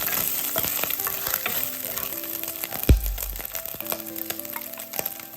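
Garlic slices and soaked dried scallops stir-fried in oil in a wok over high heat: loud crackling sizzle with repeated spatula scrapes and clinks, one sharp knock near the middle; no talking.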